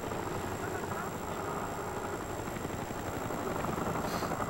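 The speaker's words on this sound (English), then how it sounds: "Oh, there's an attack helicopter." An attack helicopter in the Call of Duty Black Ops video game gives off a steady, loud rotor drone that fills the whole stretch over background game noise, with no talking.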